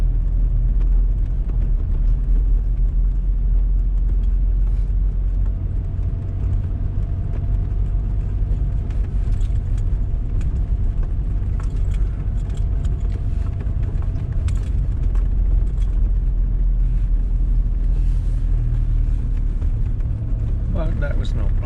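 A vehicle in four-wheel drive rolls over a rutted dirt road, its engine a steady low rumble with road noise throughout and occasional bumps and knocks.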